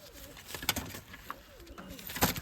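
Pigeons coo softly at close range, with several low rolling calls spread across the moment amid light rustling and faint background noise.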